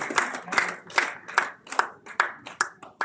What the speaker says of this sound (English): please give him a round of applause for recognizing and blessing the book